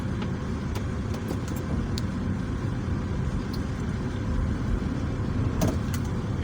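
A car moves onto an expressway with a steady, moderate road and engine drone and constant tire and traffic noise, broken by a few faint ticks and knocks, with no talking.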